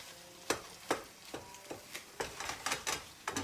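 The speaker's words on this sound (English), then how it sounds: "Just put it in that skillet and just flip it, mash it, and turn it over." Sweet potatoes being mashed and flipped in a skillet, a series of sharp, close scraping and slapping strokes over a soft sizzle, coming at an irregular rhythm and speeding up toward the end.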